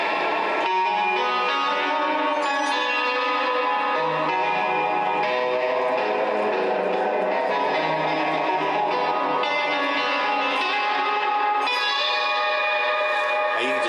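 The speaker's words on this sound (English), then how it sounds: "it's got a little reverb. And of course you can make that bigger, here's the density, and turn up the mix" Electric guitar played through an Amplitube 2 amp simulation with reverb turned up, sustained chords and melodic notes ringing with a wide, echoing tail, loud and continuous throughout with no talking.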